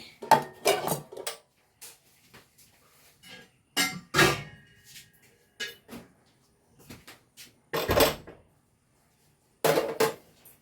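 A bronze uruli cooking vessel is handled and set on the stove, heard as scattered metallic clanks and knocks in short bursts separated by near silence, close by, with no talking.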